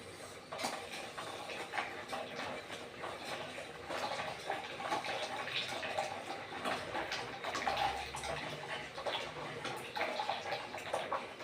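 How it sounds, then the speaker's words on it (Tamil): Dissolved pearl millet batter (kambu koozh) poured steadily without stopping, a continuous liquid splashing and trickling with faint clinks of a small spoon against a vessel. "இப்படியே கை விடாமல் இப்படி ஊற்றிக்கிட்டே இருக்கணும்."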